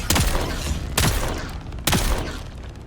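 Three spaced, heavy gunshots in the survival game Dune Awakening, each a loud, sharp report with a short decaying tail, fired about once a second.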